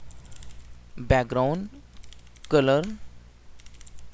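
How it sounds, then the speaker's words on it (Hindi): Computer keyboard typing, a steady patter of small key clicks running under a man's speech that comes in two short bursts. "और यहाँ पे मैं टाइप करता हूँ बैकग्राउंड"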